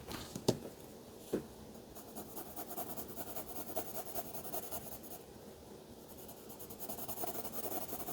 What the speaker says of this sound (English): So I'm just going to draw a tree trunk. Just up like that.